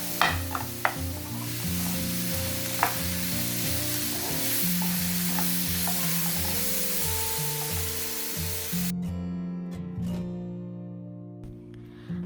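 Banana pieces and raisins frying in a pan, sizzling steadily while a utensil stirs and scrapes through them, with occasional clinks against the pan and no talking.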